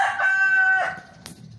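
A single chicken call, most likely a rooster, rings out loud and close for about a second, then fades, with a faint scrape or flutter near the end.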